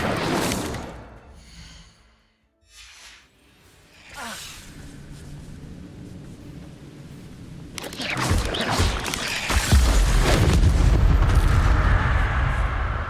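Fiery spell blasts from Incendio casts in Hogwarts Legacy, booming, whooshing bursts that build into a loud, dense roar of flame and impacts in the second half, with no talk.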